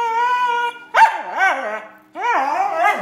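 A dog barks and yips up close: a sustained whining tone, then two sharp, rising barks separated by a brief silence.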